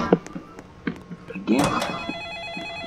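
A phone rings in a Roblox gas station game, a bright electronic trill that starts partway through and keeps ringing while a voice talks over it.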